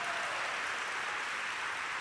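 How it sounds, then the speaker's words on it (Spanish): A church congregation claps in a steady, dense burst of applause, loud and even throughout, with no voices standing out. "Dele un aplauso al Señor en esta hora"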